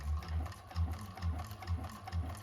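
Domestic sewing machine stitching a modified coffin-style handbag, running in a steady fast chugging rhythm of regular low thumps, close and continuous with no talk.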